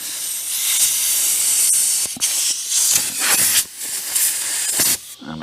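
Compressed air blasts out a Harley air cleaner in loud, close hissing bursts that stop briefly between sprays, with no talk.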